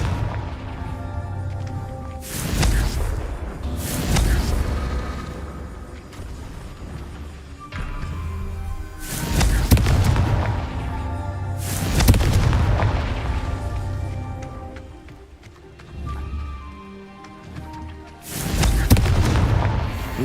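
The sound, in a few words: Confringo spell explosions from the Hogwarts Legacy video game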